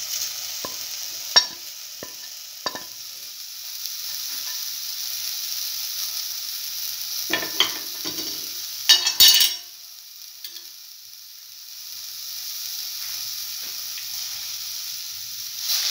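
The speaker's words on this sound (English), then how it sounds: "Thoroughly mix the bread piece." Bread pieces and scrambled egg being stir-fried in a pan: a steady soft sizzle with repeated scraping, tapping strokes of a utensil against the pan, a cluster of sharper clatters in the middle, then quieter frying.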